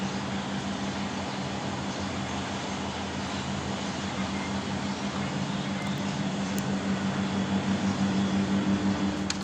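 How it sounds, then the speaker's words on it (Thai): Steady, loud hum of an air conditioner running nonstop with a low mechanical drone and broadband hiss, no voices. "เสียงจะดังหน่อยนะคะ เพราะเป็นเสียงแอร์นะแม่"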